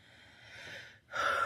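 A person yawns, a long breathy inhale rising in strain, a brief pause, then a voiced open exhale, close and fairly loud.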